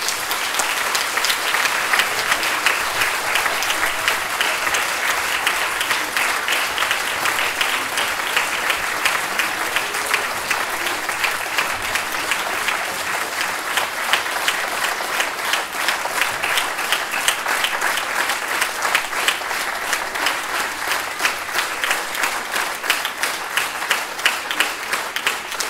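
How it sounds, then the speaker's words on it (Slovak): Audience applause at a Christmas evening concert, a long, steady, dense round of clapping from a large crowd filling the hall, loud and sustained throughout with no talk. "Dámy a pánové, magistrovi Jankovi Kaliňakovi veľký potlesk"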